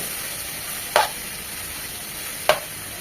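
Snake gourd (chichinga) fries in a pan with a steady, even sizzle, broken by two brief scraping stirs about a second and a half apart, heard up close with no talking.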